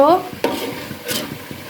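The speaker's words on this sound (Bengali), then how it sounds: "এখানে মাংসগুলো তুলে নিলাম আর এখানে তো গ্রেভিটা আছে" A spoon scoops meat out of a pot of gravy for meat khichuri, with close wet stirring, scraping and a couple of sharp utensil knocks against the pot. A brief voice is heard at the start.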